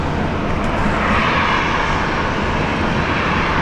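An airliner taking off from runway 19 left at Brisbane Airport, a loud, steady, broad engine roar that holds constant across the whole stretch.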